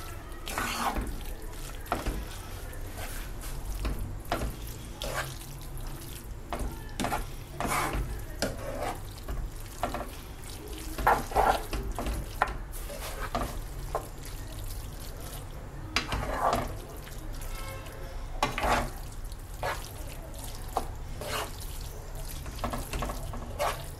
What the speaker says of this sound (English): I've added the cheese and the egg mixture, and we'll just have to mix away